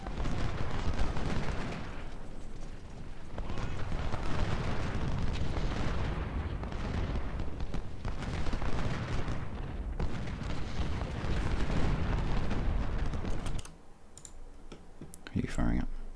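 Artillery and musket fire in the Civil War strategy game Ultimate General: Civil War at Malvern Hill, a dense continuous rumble of booms and crackling volleys with a spoken voice over it, dropping off near the end to a few clicks.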